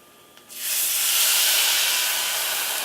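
A sudden loud hiss of water poured onto browned rice in a hot pan bursts in and keeps sizzling steadily, close and bright.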